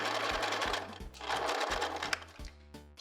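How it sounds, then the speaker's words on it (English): A sewing machine stitches a wide zigzag seam while tapering jeans, its rapid needle chatter running in short bursts with brief pauses between them, close and steady with no talking. "turn our zigzag stitch on"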